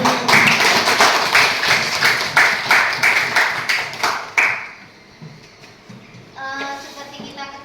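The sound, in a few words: applause at a school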